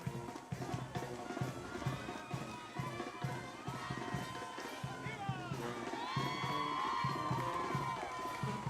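A crowd cheers along a street parade route as riders on horseback pass, with whoops and shouts in the distance, music-like tones and a voice talking over the steady crowd noise.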